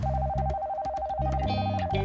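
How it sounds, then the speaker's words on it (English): An electronic telephone ring repeats as a steady warbling tone in quick pulsed bursts, loud and close, with a brief pause partway through and no talk over it. "the phone rang"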